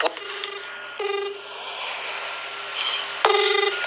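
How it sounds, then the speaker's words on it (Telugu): Telephone call being placed, with electronic beeps and tones sounding in short bursts over a steady background hum, then a brief burst of ringback tone near the end. "ఫోన్ చేద్దాం మనం"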